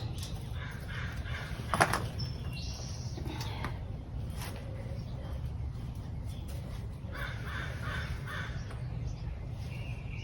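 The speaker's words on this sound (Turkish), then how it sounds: "Güzel kuşlar gitti, kargalarımız geldi." Crows caw now and then at a distance over steady low background noise, with one louder bump near the start.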